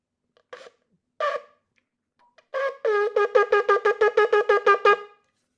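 A shofar sounds two short separate blasts, then a truah: a rapid run of about a dozen staccato notes in quick even rhythm, loud and close.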